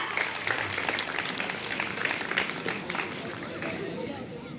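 Children and adults at a school number-game performance clap together, a moderately loud, even patter of many hands, with faint crowd murmur beneath.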